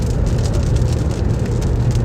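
Rain drumming on a car driven at night during storm chasing, a dense steady hiss of drops over a low road rumble, with no talk.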